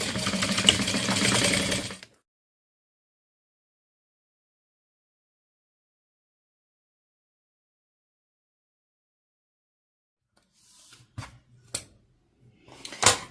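A sewing machine runs in a short burst stitching a seam on fabric, then stops into a long silence before a few faint clicks and taps.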